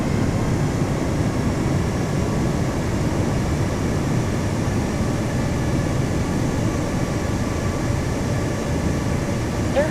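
A Korean Air Boeing 737 lands in a crosswind, heard as a steady, broad roar of jet engines and rushing air that holds evenly from start to finish at moderate distance, with no talk.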